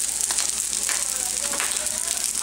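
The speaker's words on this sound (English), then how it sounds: "so I'm just gonna add my vegetables." Shiitake mushroom, green onion, carrot and asparagus hit a pan of frying rice for omurice, giving a steady, close, loud sizzle that crackles throughout with faint stirring.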